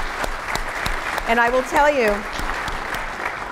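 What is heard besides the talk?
audience applause for the jury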